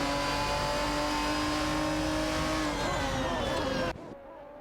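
Maserati MC12 GT1 race cars roar in a video game race, a dense, steady high-pitched engine whine with layered harmonics that holds loud and then cuts off abruptly near the end.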